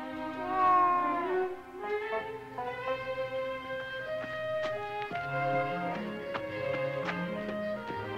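A cat meows in a drawn-out, wavering series of calls that rise and fall, close and fairly loud, with faint background sounds and no talk over it.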